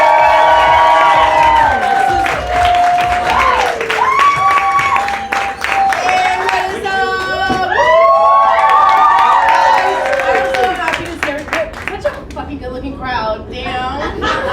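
A comedy festival crowd cheers, whoops and applauds loudly as a comedian takes the stage, with shouts and clapping throughout and voices talking over the noise.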